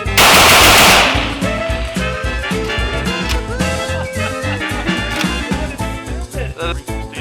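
Century Arms WASR-10 rifle firing a loud, close burst of rapid shots, then a steady string of sharp reports with ringing metallic tones between them.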